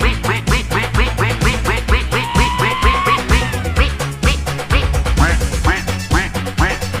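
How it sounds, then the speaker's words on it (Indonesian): A green dancing toy duck quacks over and over in a quick, steady rhythm against a bouncy electronic tune, loud and close, with a rising whistle-like tone partway through. "Ini ada hewan bebek teman-teman."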